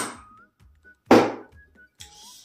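A xiangqi piece is slapped down onto the board to capture an elephant: one loud, sharp wooden thunk near the middle, surrounded by a few faint clicks and quiet background noise.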